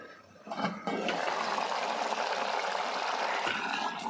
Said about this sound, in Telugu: ఈ పప్పును ఇప్పుడు టమాటా గుజ్జులో వేసేసుకుందాం.